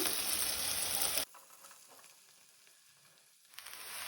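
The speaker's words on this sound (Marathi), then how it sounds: "आतां हांव तातूंत घालता भाजी।" Ridge gourd dropped into hot oil with chana dal gives a loud sizzling burst that abruptly drops to a quieter, steady frying hiss, swelling again near the end; no voices.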